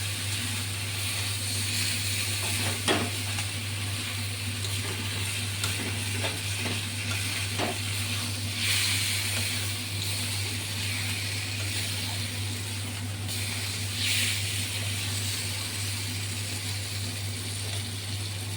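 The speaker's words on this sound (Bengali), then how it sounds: "তো এই যে আমার মটর মশলা দিয়ে কষানো কমপ্লিট, এবার আমি গরম জলটা ঢেলে দেবো।" Hot water hits spiced peas (matar) sizzling in a pan, producing a continuous hissing sizzle with a few sharp clinks of stirring, steady and close against a constant low background hum, with no talking.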